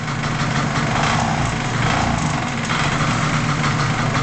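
A Vespa Veloce motor scooter engine runs steadily just after a kickstart, with a loud, close, buzzing idle that holds evenly without pauses or talk.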